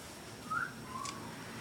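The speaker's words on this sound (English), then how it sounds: "Somebody's phone is whistling at" A short two-note whistle from a phone, like a notification tone, sounds faintly over a quiet background hum.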